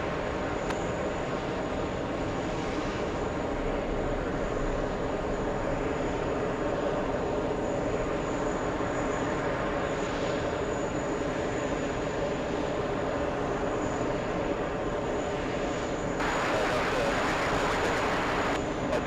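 Steady, distant roar of a South Korean government Boeing 747 on the runway during a go-around, a continuous broad rumble holding level throughout with a brighter hiss rising near the end.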